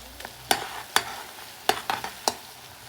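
Homemade hair oil heating in a pan on the stove, with a low bubbling hiss under four or five sharp, separate utensil taps and scrapes against the pan, no voices.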